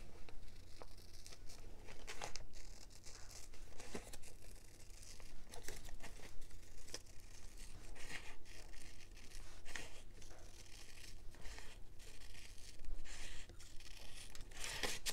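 Paper pages being handled and glue backing peeled away while making pages for a Papillon book project, giving continuous close crinkling and tearing rustles with scattered sharper crackles and no talk.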